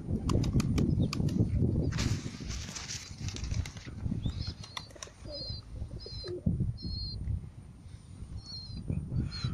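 Arab mirror-tail tumbler pigeons coo softly in a loft, with bursts of wing flapping and clattering near the start and faint high calls over steady low background noise, no talking.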